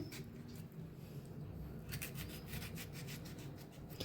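A knife slicing raw green tomatoes on a cutting board, giving a steady soft rasping, scraping texture with repeated brief cuts toward the end, close and moderately quiet, with no talking.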